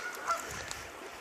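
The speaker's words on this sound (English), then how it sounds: "Some very noisy geese." Several geese honk noisily at a lake in Quebec during spring flooding, a short burst of loud calls with a faint background hiss.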